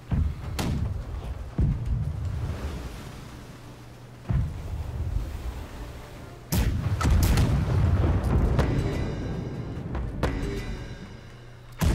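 Cannons firing broadside from a sailing ship in the naval game Blackwake, several heavy booms spaced seconds apart with rumbling decay and wind noise between, one cluster of rapid shots near the end.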